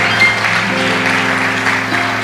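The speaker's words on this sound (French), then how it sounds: "Acclamez pour vous-même." A church congregation applauding, dense, loud, continuous clapping filling the whole short stretch, with no voices standing out above it.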